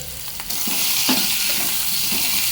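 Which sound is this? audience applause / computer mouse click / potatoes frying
potatoes frying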